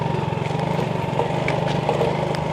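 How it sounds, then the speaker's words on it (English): A motorcycle engine drones along a road in the Philippines, a steady mid-pitched buzz near the listener, with no talking. "There's a motorcycle also."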